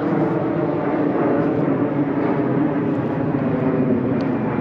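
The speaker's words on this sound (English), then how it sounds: "Got a loud ass plane over there, up there somewhere." A loud airplane flies somewhere overhead above a residential parking lot in Queens, a steady broad roar that fills the whole clip with no talking.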